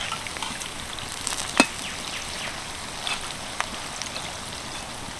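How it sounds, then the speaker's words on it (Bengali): Leftover-rice kurkure, puffed up and floating, frying in hot oil: a faint, steady crackling sizzle with a few sharper pops, heard alone with no talking. "এবার এগুলোকে উল্টে পাল্টে ভেজে নেব"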